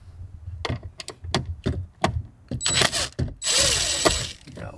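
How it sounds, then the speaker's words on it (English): A tool backs four set screws out of a dash trim piece on a 2009-2014 Subaru Outback or Legacy, giving short ratcheting bursts and clicks in quick groups, loud and close, with a steadier whirring stretch near the end. "So remove this. It's just four screws. Four set screws."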